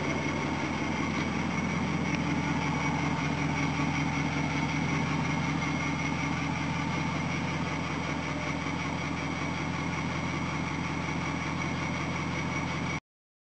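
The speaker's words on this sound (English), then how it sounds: "And that's a rattly door you can hear shaking around. It's got a cold, noisy, screechy belt." An old Mercedes engine idles cold with a steady, even mid-pitched hum and a continuous high screech from a noisy belt. A loose door rattles faintly underneath. The sound is fairly quiet and unchanging until it cuts off abruptly.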